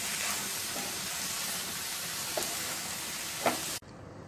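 Ridge gourd peel cooking in a pan over a low flame, giving a steady dense sizzle with soft hiss and a few faint stirring taps before it cuts off abruptly near the end.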